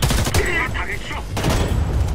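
Gunshots from the video game Homefront: The Revolution, a couple of loud close blasts punctuating a short stretch, one near the start and another past the middle, over a dense game background.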